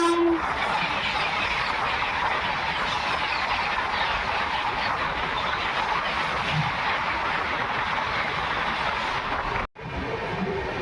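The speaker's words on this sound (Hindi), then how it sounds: "तो ट्रेन बढ़ रही है मकराना जंक्शन की तरफ" An overnight passenger express train running toward Makrana Junction, a loud continuous rumble of wheels and carriage noise heard from on board, steady throughout with a brief dropout near the end.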